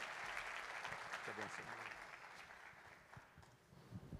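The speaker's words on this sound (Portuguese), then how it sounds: "um forte aplauso para ele nessa manhã" Congregation applauding a pastor at a national church conference morning session, broad clapping from a crowd in a large hall, moderately quiet, with a voice speaking over it partway through.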